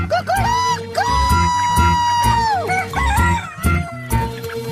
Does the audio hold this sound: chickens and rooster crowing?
yes